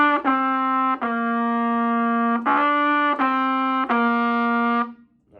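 A bright trumpet plays a short, simple two-measure melody of held notes with brief breaks between them, clear and close, then trails off into quiet.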